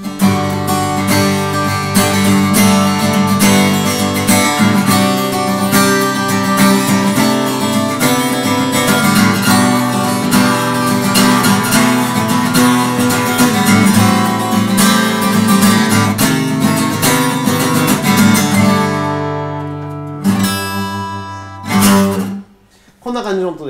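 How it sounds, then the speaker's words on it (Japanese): A Yamaha FG250S acoustic guitar is strummed in brisk, continuous chords that ring loud and full, then thin out and trail off into scattered notes near the end. "こんな感じ、ジャカジャカっとストロークしてみます。"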